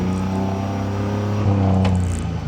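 A tuk-tuk engine runs steadily at idle, a loud, close, continuous low mechanical drone with a brief rise partway through and no talk.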